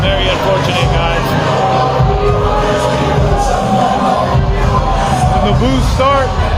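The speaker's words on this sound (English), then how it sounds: "When the boos start like that, you know the crowd's pissed." Spectators at a live Muay Thai fight keep up loud, continuous booing and hubbub, a steady crowd roar with occasional whoops and bellowed shouts breaking through.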